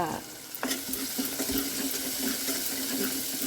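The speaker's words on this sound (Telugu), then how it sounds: "ఈ సొరకాయ పులుసుకు చింతపండు రసం లైట్గా పల్సగా పోయాలి" Thin tamarind juice pours into a bottle gourd stew, a steady watery splashing and trickling close by for the whole stretch, with a faint sizzle beneath and no talking.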